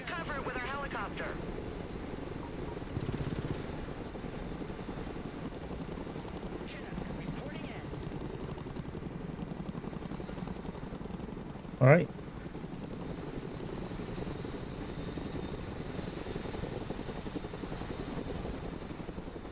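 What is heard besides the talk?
cargo helicopter flying in video game Broken Arrow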